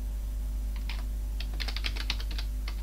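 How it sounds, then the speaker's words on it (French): Key presses on a Thomson TO8/TO9 computer keyboard during a 1987 game: a run of light, quick clicks, a few scattered and then a denser cluster, over a steady low hum. "en tapant sur la touche stop du clavier Thomson"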